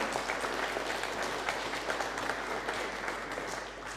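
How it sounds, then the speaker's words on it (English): Lecture audience breaks into steady applause with scattered cheers, dense and sustained throughout, fairly distant and even in level. "Give me a bit of encouragement, come on. Sort of yays and claps and things."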